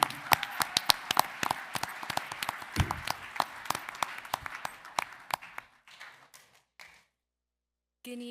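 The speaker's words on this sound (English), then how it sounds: "How about a round of applause for Selena?" A small audience at a Board of Education meeting gives brief, sparse clapping with distinct individual claps that thin out and stop, followed by a moment of quiet.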